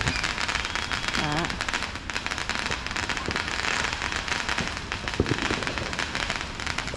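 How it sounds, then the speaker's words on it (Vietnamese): Neighborhood fireworks and firecrackers for a July 4 celebration crackle and pop continuously at a moderate distance, a dense rattling barrage with occasional sharper bangs, while people talk faintly in the background. "Hôm nay là ai cũng đốt ngày đùng đùng đùng đùng đùng đùng."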